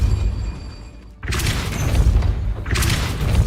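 A Depulso spell from Hogwarts Legacy bursts out as a heavy, broad whooshing blast, followed a moment later by a second similar blast over a low rumbling background.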